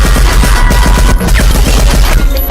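A dense, loud burst of rapid gunfire erupts in a film scene, shots packed tightly together into a continuous rattling volley with no pauses.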